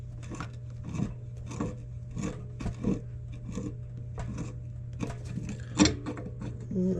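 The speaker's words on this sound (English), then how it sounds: "So I'll try getting this one up with my channel locks to where I think it's nice and snug." Channel lock pliers tighten a well pressure switch with faint, close, irregular metallic clicks and rasps, spaced roughly every half second over a low steady hum.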